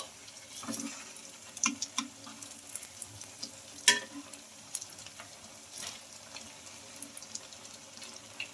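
Rava breakfast pieces fry in oil in a kadai, giving a soft continuous sizzle with scattered clicks and clinks and one sharper knock, fairly quiet and with no speech.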